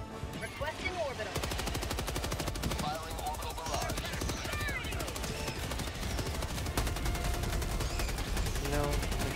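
Sustained machine gun fire in Helldivers 2 rattles on for several seconds in dense rapid bursts with a few short gaps, set against battle noise, while a voice talks over the shooting.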